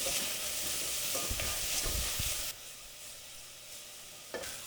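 Chopped onions sautéing in a pan for a cauliflower mac and cheese, a steady, loud sizzle with occasional stirring scrapes that drops to a quieter hiss partway through.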